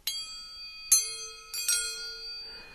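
Metal spoons on a string are struck three times, each giving a bright, bell-like ring with long shimmering overtones that fade slowly, heard up close.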